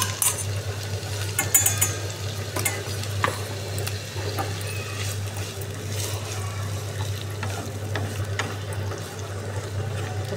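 Vegetables fry in hot oil in a home kitchen pan, giving a constant low sizzle with occasional stirring scrapes and clinks, close and moderately loud, no talking.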